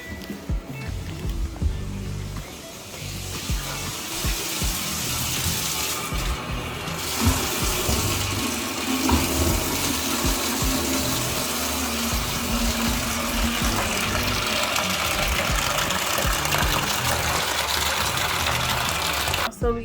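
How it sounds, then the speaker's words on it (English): Tap water runs steadily into a bucket during a bathroom makeover, a continuous rushing pour that fills the whole stretch at close range, with a voice speaking briefly near the start. "So we're gonna go ahead and fill up our bucket."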